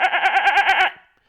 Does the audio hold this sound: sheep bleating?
yes